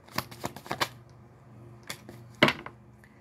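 Tarot deck being shuffled and cards drawn during a reading: a rapid burst of crisp card flicks, a pause, then a single louder slap and flutter as cards come off the deck, close and clear with no talking.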